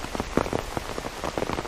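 Heavy rain pours down hard near Lake Norman in Mooresville, North Carolina, with dense, close patter and sharp drops striking nearby surfaces throughout.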